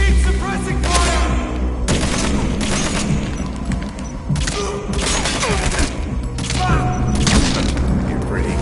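Video game gunfire: rapid bursts of shots and heavy booms cracking in close, repeated volleys across the whole stretch, loud and dense, with shouted voices mixed in.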